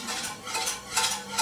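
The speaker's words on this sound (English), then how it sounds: "You stir, because we don't want the flour to get" A spoon stirs a flour-thickened white sauce for baked fish in a pan, making continuous close scraping and swirling strokes that rise and fall in steady waves.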